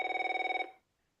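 A flip phone rings with a rapid, trilling electronic bell for about half a second, then cuts off into silence.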